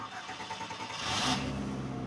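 Engine of a new 2019 Toyota Corolla Hatchback drift car revs up, growing from a quiet rumble to a loud roaring surge partway through and holding strong.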